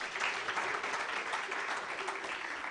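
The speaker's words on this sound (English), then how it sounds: "Can we clap for them?" Applause from the audience at a Kenya Power Expo event, a fairly quiet, steady patter of many hands with a faint background hum, no voices standing out.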